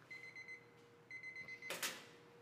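A kitchen timer beeps in short repeated bursts while cricket gougères bake, two clear runs of electronic beeps followed by a brief burst of noise, fairly faint.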